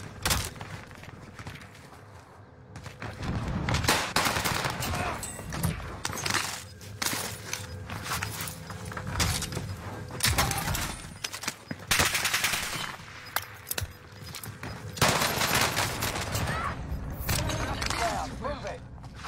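Rapid gunfire from a Call of Duty match, with bursts of automatic fire and sharp shots recurring throughout, mixed with game sounds and a voice talking over much of it.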